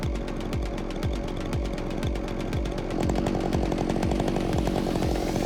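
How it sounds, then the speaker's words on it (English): A chainsaw cuts into a big, rotten hemlock, its engine revving in steady pulses that grow louder and more strained midway through, close and continuous with no talk. "He's out here using a chainsaw."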